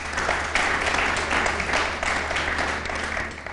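Steady audience applause at an Eid poetry recital (mushaira), a continuous wash of many hands clapping at moderate loudness, sustained evenly throughout.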